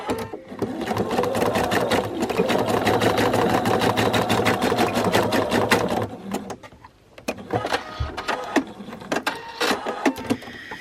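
A domestic sewing machine stitches swimsuit bikini bottoms in a fast, steady needle rattle for about six seconds, then runs in shorter stop-start bursts close by, with no talk over it.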